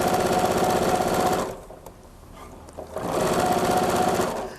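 Sewing machine stitching binding along a zipper, a fast rattling run that stops for a quiet pause and then starts again at the same steady pace, close and loud.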